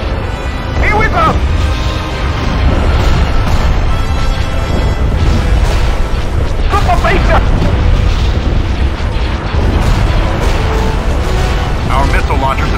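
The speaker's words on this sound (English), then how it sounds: "Our missile launchers have been destroyed." Explosions destroy missile launchers in a Star Wars battle, heard as continuous loud booming rumbles with heavy low-end under constant chaotic combat noise and voices talking.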